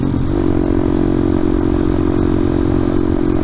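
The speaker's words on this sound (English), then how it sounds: "it's kind of neat when I shift with no clutch though, because it pops when I shift" A motorcycle engine runs loud and close with a steady drone and a rising tone as it accelerates, with faint popping through the gear shifts done without the clutch, and no one talking.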